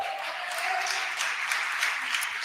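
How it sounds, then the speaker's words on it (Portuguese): A church congregation claps in celebration, a steady, distant, fairly quiet patter of many hands with a faint tone running beneath. "Você pode celebrar Deus com as suas palmas, igreja."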